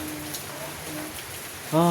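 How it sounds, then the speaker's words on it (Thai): Steady rain falls during a stormy spell, a soft continuous hiss filling the scene, with a voice beginning to speak at the very end. "ฝนก็ตกมาช่วงนี้ก็พายุเข้า"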